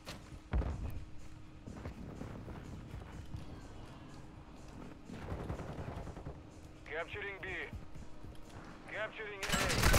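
Scattered gunshots and thuds from the video game Call of Duty MW2 ranked play, intermittent sharp bursts at low level, with players talking over the action.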